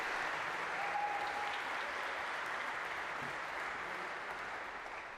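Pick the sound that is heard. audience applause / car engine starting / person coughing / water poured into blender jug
audience applause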